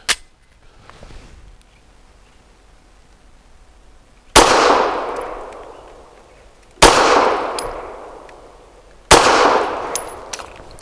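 A Ranger Arms RA9 9mm pistol fired outdoors, four sharp loud single shots with ringing decay, the first faint and the last three spaced about two and a half seconds apart.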